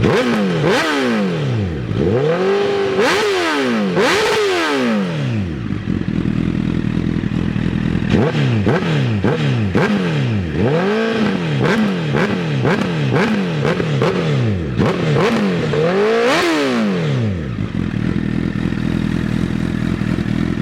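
A 1000cc superbike engine revs hard again and again, each blip swooping up and falling back in rising and falling sweeps, loud and close, with a steady idle between runs and no talking.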